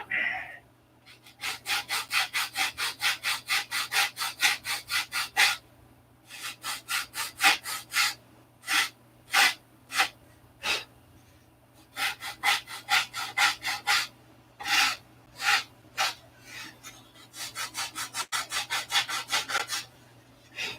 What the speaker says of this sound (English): Sand this straight.